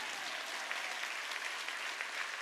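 A church congregation claps during a Sunday worship service, a steady and even wash of applause held at an unchanging level throughout, fairly distant, with no voices over it.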